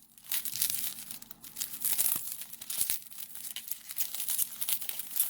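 Crinkling plastic packaging is cut and torn open while unboxing silver and gold bullion coins, giving a steady, close rustle with sharp rips and crunches throughout.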